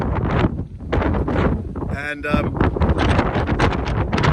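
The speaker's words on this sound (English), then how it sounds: "It's getting pretty windy here." Gusty wind buffets the microphone in a steady low roar, with someone talking over it throughout.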